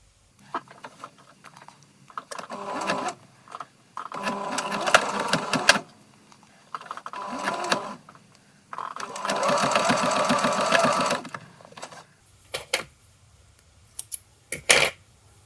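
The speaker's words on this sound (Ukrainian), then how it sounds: "А потім пристрачуємо карман" A sewing machine stitches a pocket onto homemade men's trousers, running in several close bursts of varying length with quiet pauses and small clicks between them.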